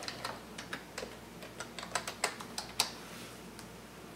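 A password being typed on a computer keyboard while logging into a Linux box over PuTTY, with about twenty quick, crisp key taps in an uneven rhythm, close and fairly quiet, and no talking.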